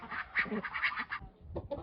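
Ducks in a farmyard pen quack in a rapid, close run of calls, then a short pause and a few more quacks, with no talk.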